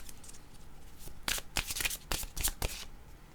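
A deck of tarot cards is shuffled by hand: quiet handling, then a quick series of sharp riffling bursts, close and crisp.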